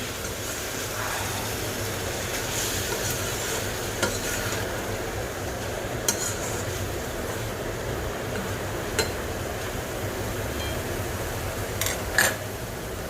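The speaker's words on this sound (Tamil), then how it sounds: "அடுத்தது இந்த காராமணி ஆட் பண்ணிக்கலாம்." Black-eyed peas stirred in a hot pan, a steady sizzle running throughout with scraping stirs and a few sharp clinks of utensil against the pan, fairly close and without talk.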